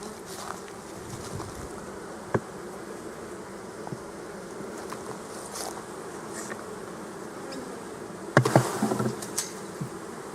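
Bees hum steadily around an open beehive during a brood check, with occasional close passes and a louder burst of buzzing and handling noise near the end.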